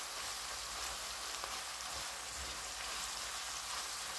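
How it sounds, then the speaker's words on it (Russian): Canned stewed meat fries with garlic in a pan, giving a faint, steady crackling sizzle that continues evenly throughout without any talk. "Уже в полном разгаре у меня здесь все жарится."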